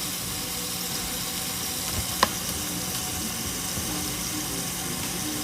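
Turkey burgers sizzling in a covered pan on a stovetop, a steady, even hiss that continues throughout, with one faint click partway through and no talking.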